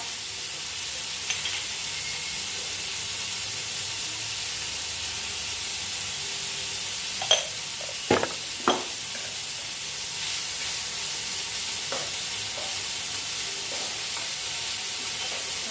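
Drumstick (moringa) leaves with moong dal sautéing in a pan give a soft, steady sizzle and hiss, broken midway by a few sharp scrapes of a spatula being stirred through, close by with no talking.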